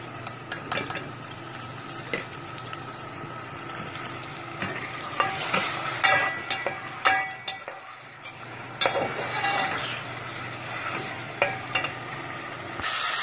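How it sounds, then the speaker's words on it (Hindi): Meat frying with garlic and ginger in a pan, sizzling, with repeated scraping and stirring of a utensil against the metal, close and fairly loud. "लहसुन अदरक डाल के इसको भूलेंगे"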